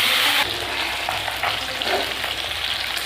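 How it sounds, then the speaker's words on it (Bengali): Fish coated in salt and turmeric frying in hot oil in a wok (kadai) for a Bengali fish curry, a steady loud sizzle and crackle that holds throughout with a few brief bursts. "এবার মাছগুলো ভেজে নেব।"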